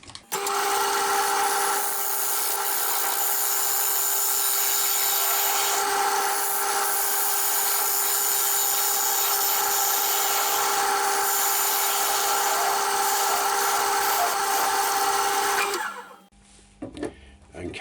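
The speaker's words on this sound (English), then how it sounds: "I've just started using it the other way around now, which is rubbing the bevel there on the wood itself, on the piece itself, and just going into the centre." A woodturning gouge cutting a sycamore bowl on a lathe: a loud, steady tonal hum with a continuous scraping rush of tool on spinning wood, unbroken for about sixteen seconds before it drops away to quiet handling sounds.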